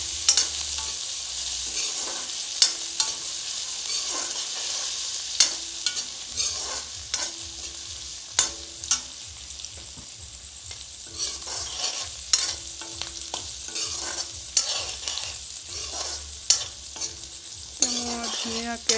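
Ginger, garlic, chilli and onion fry in a pan with oil and panch phoron, a steady close sizzle broken by frequent clattering stirs of a spoon against the pan throughout.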